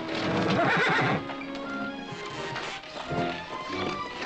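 A horse whinnies loudly up close, followed by the clip-clop of hooves moving over a hard surface.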